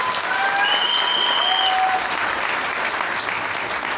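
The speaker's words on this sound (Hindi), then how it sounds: "एक बार जोरदार तालियां उनके लिए" A seminar audience in Nepalgunj bursts into loud, dense applause, many hands clapping together in a sustained even roar that tapers slightly toward the end.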